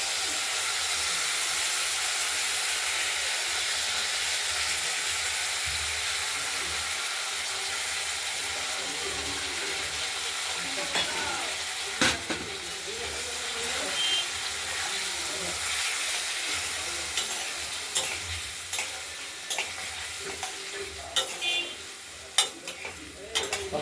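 Spices sizzling and frying in a hot pan with potatoes, beans and tomato, a constant hiss with stirring clatters and scrapes growing more frequent toward the end.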